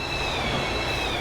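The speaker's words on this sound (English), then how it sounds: "Our colleagues on a passenger train there." A passenger train passes in Train Simulator 2021 on the Wiener Neustadt to Graz route, giving a loud, steady rumble with a thin high whine across the whole moment.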